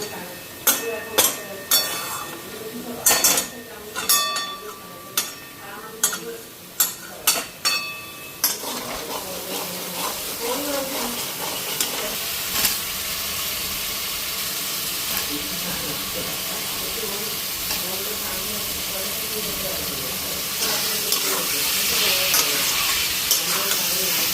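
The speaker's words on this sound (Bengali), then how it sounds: "আর এদিকে সয়াবিনের তরকারিটাও বসাই দিছি" Soybean curry cooking in a pan with spices, giving a steady close sizzle and hiss that continues throughout, while sharp utensil clatters and knocks come in the first several seconds.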